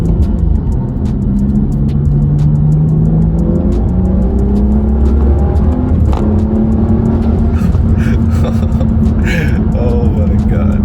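BMW F30 335i N55 running a Bootmod3 Stage 2 tune on 91 octane, accelerating hard in a steady, loud interior pull with rising engine tones throughout, with a voice occasionally heard over it.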